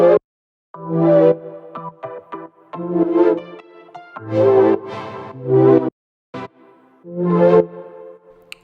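Grouped synth chords with heavy reverb from a beat made in Ableton play in short separate bursts with brief silent gaps between them.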